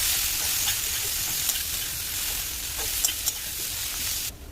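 Potatoes seasoned with cumin and coriander powder are stirred in a hot pan, giving a constant hissing sizzle with a few soft scrapes of the spoon before the sound drops away at the end.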